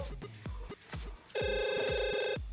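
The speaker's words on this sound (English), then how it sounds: "Do you hear the phone ringing? Is that the phone?" A telephone rings with a sustained electronic tone partway through, standing out loud and clear over steady thumping pulses and background noise, and nobody speaks.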